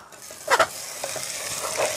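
A spoon stirs varutharisseri, a Kerala curry, in a cheenachatti frying pan. A couple of quick scraping strokes come close up over a faint, steady sizzle.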